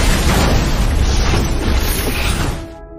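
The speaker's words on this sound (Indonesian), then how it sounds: "membiarkan mobil Joker menabrak gundukan pasir hingga akhirnya meledak" A car explodes after crashing into a sand mound in a desert race: a loud, sustained roaring blast of dense noise that fades out near the end.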